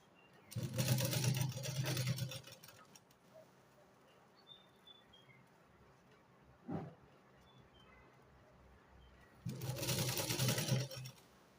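A sewing machine stitches piping onto thick fabric. It runs in two whirring bursts of about a second and a half each, separated by a quiet stretch with a single brief knock, and sounds close and moderately loud.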